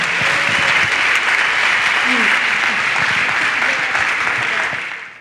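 An audience at a conference applauds a speaker, giving a loud, sustained wash of clapping that holds evenly and then tapers off at the very end.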